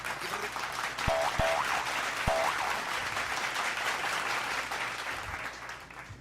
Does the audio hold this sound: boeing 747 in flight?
no